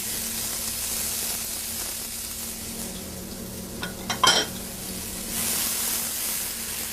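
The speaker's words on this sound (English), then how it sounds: "You want to stir and you want to cook your onion until it's translucent." A diced onion cooks in butter in a pan for a risotto base, sizzling softly and steadily, with a brief clatter of a spoon scraping and stirring partway through.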